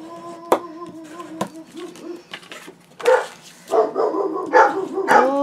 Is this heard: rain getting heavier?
no